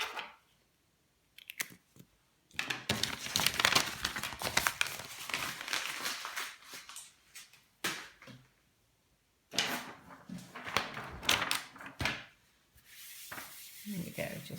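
Papercraft setup with a fresh sheet of grid paper being pulled out and handled up close, giving bursts of crinkling, rustling and sliding paper noise broken by short quiet gaps.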